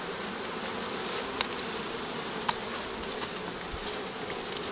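Honeybees buzz at a wooden horizontal lying-type hive, a dense, steady drone close by with a few individual bees whizzing past the microphone, no voices.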